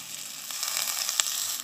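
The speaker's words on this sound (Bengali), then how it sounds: "এবার আমি এর মধ্যে দিয়ে দেব পরিমাণ মতো জল" Water hits a hot pan of spiced potatoes and breaks into a steady, bright sizzle, close and continuous, with a couple of small pops and no talking.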